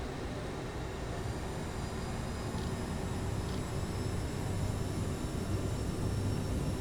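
An Aerosoft CRJ jet in a flight simulator game spools up for takeoff with a steady, broadband engine roar. It stays even and fairly loud for about seven seconds with no break and no voices.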